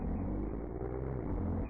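Low rumbling diesel engine of a Kenworth W900 truck in American Truck Simulator, a steady, loud, close drone with no break across the short stretch.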